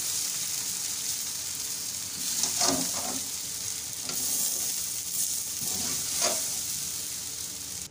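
Garlic rice stirred in a hot pan, a steady frying sizzle with a few scraping stirs of the spoon mixing the grains, close and without talk.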